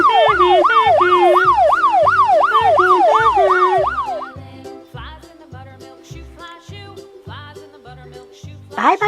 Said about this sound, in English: Look, it's a police car.